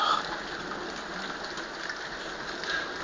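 Heavy rain pouring during a strong nighttime electrical thunderstorm over Moulins in August, a dense steady hiss of drops on surfaces, fairly faint and continuous with no voices.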